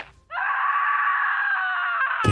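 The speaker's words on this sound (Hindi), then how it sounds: "फिर एक चीख उठी" A long, sustained scream, loud and steady for about two seconds, ending abruptly, in a Hindi horror audio story after sounds of a struggle.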